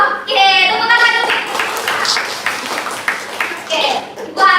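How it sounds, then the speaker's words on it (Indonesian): A class of students claps hands together in a classroom counseling session, a dense patter of claps mixed with children's chatter and voices throughout. "Oke, tepuk tangan dulu."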